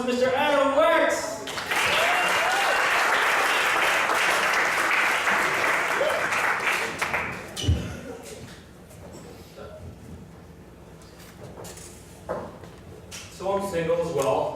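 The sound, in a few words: audience applause for comedian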